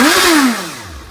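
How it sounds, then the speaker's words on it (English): Suzuki GSX-S750 motorcycle on its stock exhaust, a single short rev that rises sharply, peaks and falls away as the engine winds down, heard close and alone. "but this is the stock exhaust."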